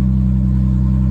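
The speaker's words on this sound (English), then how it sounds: "We got no exhaust on the car still from the race to save some weight," A 1700hp Nissan GT-R with no exhaust fitted idles loud and close, a deep, steady, rumbling engine drone with a slight throb, and no voices.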